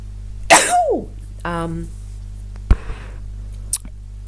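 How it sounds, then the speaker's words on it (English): A single sharp sneeze bursts out, followed by a brief sniff and a couple of small mouth noises in an otherwise quiet room. "I'm going to sneeze again."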